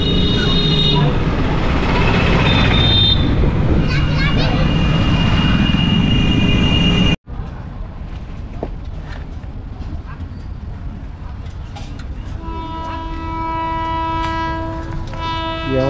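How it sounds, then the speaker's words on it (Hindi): A train passes the Saraiya Mod railway crossing in India, loud and close, with rumbling wheels and blaring horn blasts. The rush cuts off abruptly, then a quieter stretch follows with more horn tones. "सरैया मोड़ का रेलवे फाटक है, देखो ट्रेन आ रही है यहाँ से।"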